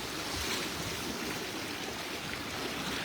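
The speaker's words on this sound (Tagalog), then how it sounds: "Kasi malakas na agos." A strong river current rushes steadily in a broad, even wash of water noise, continuous and fairly close with no voices.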